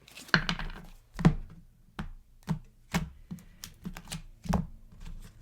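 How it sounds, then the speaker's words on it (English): Tarot cards are shuffled and tapped by hand in a quiet room: a series of about a dozen distinct papery taps and soft thumps at an irregular pace, close and moderately loud. "let me just shuffle a few times and then we'll get your cards out"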